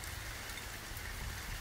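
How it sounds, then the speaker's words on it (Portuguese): Light rain falls steadily, a soft continuous patter of drops with a low rumble beneath, even and unbroken with no voices. "a chuva tá fraca, hein?"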